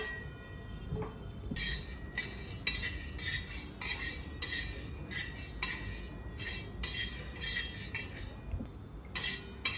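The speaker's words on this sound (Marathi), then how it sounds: "आता आपण चण्याची डाळ भाजून घेऊया।" Chana dal dry-roasts in a pan while a metal spoon stirs it, giving bright rattling clinks and scrapes in irregular bursts, close and fairly quiet, with nobody speaking.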